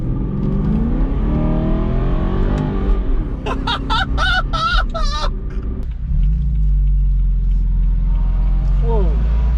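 An Aston Martin V8 Vantage cruising a Tennessee mountain road, heard from inside the cabin with the windows up: a steady, loud low engine drone and road rumble, with a brief burst of higher whirring and chirps midway and voices at times.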